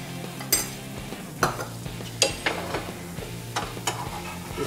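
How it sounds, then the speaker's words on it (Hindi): Omelette frying in oil in a pan on a stove, with a steady low sizzle and several sharp clatters and scrapes as the spatula works under it and flips it, no voices. "इसके ऊपर हम थोड़ा सा ऑयल स्प्रिंकल करेंगे और इसे पलट देंगे"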